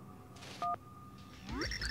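A phone ringing in the Super Paper Mario video game, heard as a short two-tone electronic beep and then a sustained tone, followed by a rising chiming jingle.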